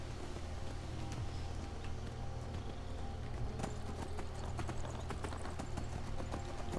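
Horse hooves clip-clopping in the Skyrim video game, a steady trotting rhythm of hoofbeats at moderate distance over a constant ambient bed.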